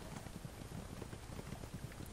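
Horses gallop in an Age of Mythology battle, a faint, dense rumble of many hooves drumming in quick irregular rhythm, steady and distant throughout.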